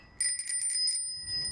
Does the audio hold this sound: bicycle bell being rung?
yes